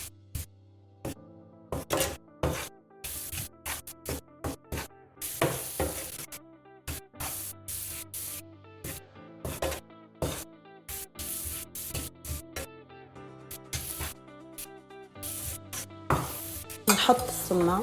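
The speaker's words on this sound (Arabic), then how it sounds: "السماق بنخليه شوي نضلنا نقلب فيه لحديت ما يدبل البصل." Onions with sumac cook in a pan for Palestinian musakhan, giving a steady sizzle broken by frequent scraping stirs and clinks of the utensil against the pan, close and clear with no talking.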